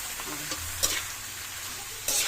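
Heart of coconut palm is stirred in a hot pan, a quiet sizzle broken by a few soft scraping strokes of a spatula, with no talking.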